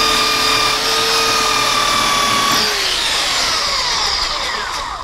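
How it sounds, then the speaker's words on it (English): A sandpaper cleaner is pressed against a running sanding belt on a workbench, giving a loud, continuous abrasive whir with a steady motor tone that slowly fades. "here's a sandpaper cleaner for sanding belts"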